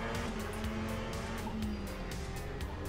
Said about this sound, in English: Oh, the car locked up ahead of us.